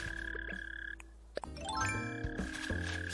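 Underground chirping of a mole cricket in Animal Crossing: New Horizons, a bright, trilling, frog-like croak with tinkling tonal notes, rising and falling in short bursts, alone and fairly quiet.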